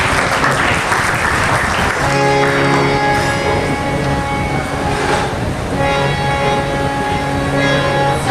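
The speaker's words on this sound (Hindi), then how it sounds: "जोरदार तालियों से स्वागत कीजिए।" Loud, sustained applause from a school audience at a National Sports Day event, dense clapping that continues throughout with a faint tonal hum underneath.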